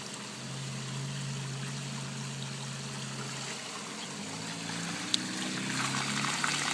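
Dirty backwash water drains from a pool sand filter in a steady, moderately faint rushing stream that shifts slightly partway through.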